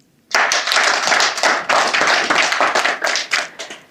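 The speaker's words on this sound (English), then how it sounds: "A round of applause for Marie." Audience giving a round of applause at a digital economy policy guide launch, a close, full burst of many hands clapping that starts abruptly and tapers into a few last claps.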